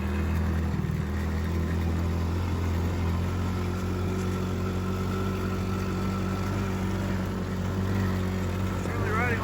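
A Yamaha PW50 dirt bike is ridden around a backyard, its small engine running as a steady, close drone with only slight changes in pitch throughout.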